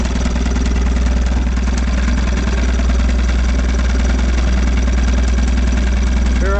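A 1956 Johnson Javelin 30HP outboard motor on a 14-foot fiberglass runabout idles close by, a loud, steady, throbbing drone with an even mechanical pulse and no pauses.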